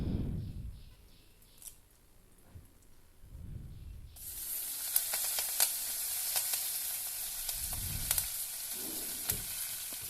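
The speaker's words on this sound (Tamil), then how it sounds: "லைட்டாக உப்பு போட்டு ஆனியன் வதங்க விட்டுருங்க" Onions sautéing in oil with salt, a faint soft sizzle that swells into a steady louder frying hiss halfway through, with a few light clicks of stirring.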